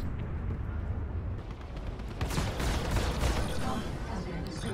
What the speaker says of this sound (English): we killed all of them very, very fast with the combined firepower of our 4 laser cannons, the Badger repeaters, and of course the M3A laser cannons